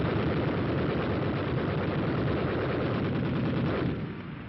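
Tank-mounted .30- and .50-caliber machine guns fire in a dense, continuous roar of rapid bursts, loud and sustained before tapering slightly at the end, with no voices.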